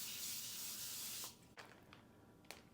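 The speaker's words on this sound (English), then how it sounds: "I'm going to spray it with some nonstick spray" Nonstick cooking spray hisses onto aluminum foil in one steady burst of about a second, then stops, followed by a few faint handling clicks and crinkles.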